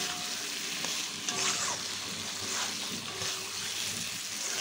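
Egg curry masala with potatoes sizzles and fries in a pan while being stirred, with steady scraping and frying crackle close up and no talking.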